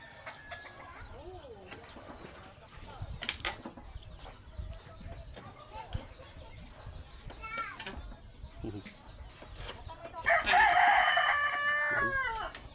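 A rooster crows loudly near the end, a long strained call, after a stretch of scattered bird calls and people talking.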